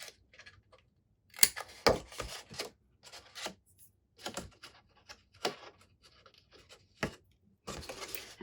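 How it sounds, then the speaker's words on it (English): Paper cut and trimmed with scissors or a trimmer for a small Stampin' Up! chocolate bar box: a run of short, crisp snips and scratchy rustles, close and fairly quiet, irregularly spaced with brief pauses between bursts. "we just need to do a little bit of cutting"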